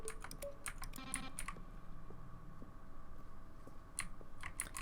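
Button presses in The Stanley Parable, each a keyboard keystroke blended with a short synthesized tone, come as a quick irregular cluster of crisp clicks, then a pause and a few more, close and clean.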